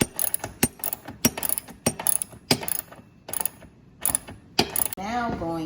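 Bevel lock on a Hitachi 10-inch compound miter saw being tightened, giving a series of sharp ratcheting clicks and knocks close by, ending in a brief squeaky rubbing scrape.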